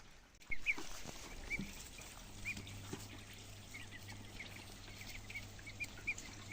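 Muscovy ducks give soft, scattered calls at a moderate distance over a low steady hum and faint trickling water, with occasional knocks and splashes.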